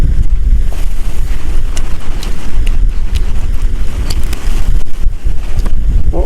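Strong wind buffets an outdoor spot where Thai-style grilled beef is being cooked and eaten, a loud, steady roar of broadband rumble and microphone noise that persists through the whole stretch with no talk.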